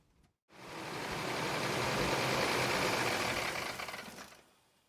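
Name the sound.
2005 Toyota Tundra engine running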